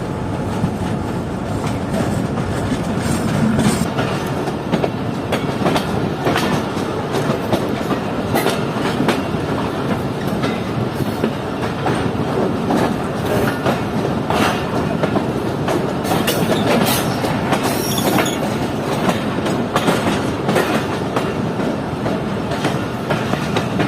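A passenger train pulls out of Habibkot Junction in rural Sindh, Pakistan, its wheels clattering loudly and continuously over the rails with rhythmic clickety-clack and occasional sharper knocks.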